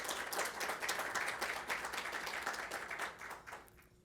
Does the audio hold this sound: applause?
yes